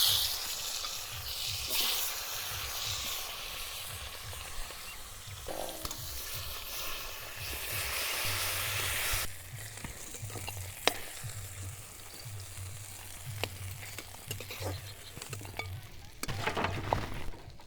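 Fish coated in salt and turmeric fry in hot oil in a kadai, a sustained crackling sizzle that swells and fades with occasional clinks and stirring scrapes.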